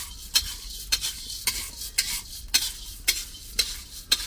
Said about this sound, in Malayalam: പുതിയ രീതിയിലുള്ള കാപ്പിക്കുരു ഇളക്ക്